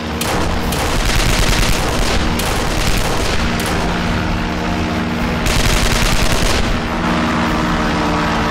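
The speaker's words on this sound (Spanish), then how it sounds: "¡Disparen a los neumáticos!" Heavy, continuous gunfire aimed at truck tires in an animated series, loud rapid bursts of automatic fire blending with booming shots that roll on without pause through the whole stretch.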